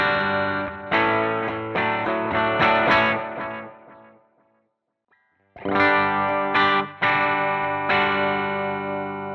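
Electric guitar through a Marshall 6100 amp model on a light drive setting, strummed chords ringing out loud, a brief silent gap, then more sustained chords.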